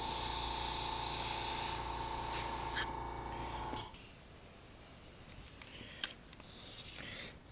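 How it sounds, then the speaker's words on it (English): An airbrush sprays a fine mist in one long, steady hiss lasting a few seconds before it cuts off, leaving quieter faint handling noises and small ticks. "Notice every once in a while I just kind of mist over the whole thing"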